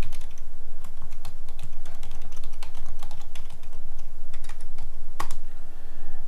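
Keys clatter in quick, irregular bursts as credentials are entered on a computer keyboard, fairly close and steady over a low background hum, with no talking.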